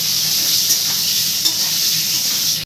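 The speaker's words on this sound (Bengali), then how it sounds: "এবার একটু আলুটা ভেজে নেব ভালো করে।" Potatoes frying lightly in a kitchen pan after fish has been fried in it, giving a steady, close sizzle that runs throughout, with faint stirring and a brief clink near the end.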